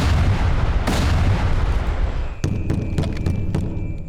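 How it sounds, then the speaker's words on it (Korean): Explosions heard from outside in the Korean war horror film R-Point, coming through a military radio: a loud, sustained rumbling blast, then a run of sharp, gunfire-like bangs. "밖에서 들리는 엄청난 폭발음"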